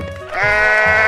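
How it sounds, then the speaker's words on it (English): A cartoonish sheep bleats once from a 3D animal video game, a loud, wavering, harmonic baa rising after a brief lead-in and holding to the end, close and clear with no talk over it. "Sheep."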